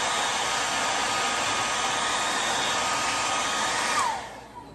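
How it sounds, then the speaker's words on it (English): A hair dryer blows heat onto a vinyl repair patch in a steady, loud, hissing whoosh that runs continuously for about four seconds before switching off and winding down. "I'll use a hair dryer, and we'll just put some heat to it"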